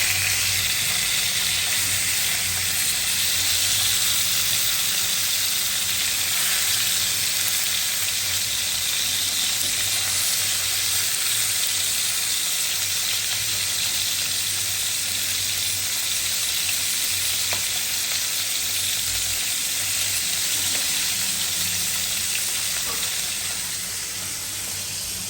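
Fried fish cooking in a pan with a blended garlic, onion and ginger paste and tomato for an eggplant fish curry gives a loud, steady, close sizzle that hisses continuously with no talk, easing slightly at the very end.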